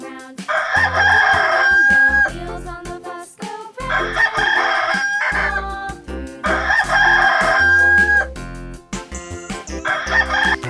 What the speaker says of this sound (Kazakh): Ачес кукаеку дейді.